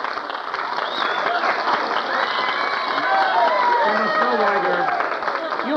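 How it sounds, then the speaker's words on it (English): A studio audience at an old-time Hollywood breakfast radio broadcast breaks into sustained applause, a dense crowd clatter with voices and faint whistling mixed through it. "most of this applause is for Bob Hope, who just walked in, not for me"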